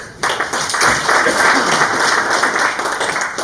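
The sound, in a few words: audience applause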